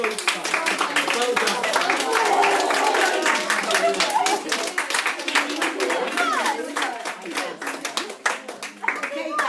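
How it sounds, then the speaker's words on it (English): A Year 8 class claps together after a debate, a dense run of many hands applauding at close range, with a few voices chattering underneath as the clapping thins out toward the end. "give yourselves all a round of applause on both sides"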